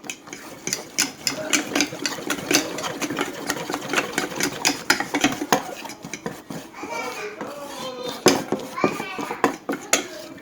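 Chocolate ganache for macarons being mixed in a bowl: brisk, rapid rhythmic tapping and scraping of a utensil against the bowl, close and busy, with a voice chattering in the background toward the end.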